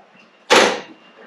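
Cab door of a Fuso expedition truck opening, one sudden loud latch clunk followed by a short fading rattle, close and alone against quiet surroundings.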